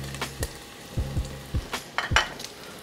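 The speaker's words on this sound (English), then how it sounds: "So once the bacon gets nice and crispy," Bacon crisping in a pan for spinach dip, with a low steady frying sizzle under several sharp clinks and scrapes of a utensil against the pan, close and moderately loud.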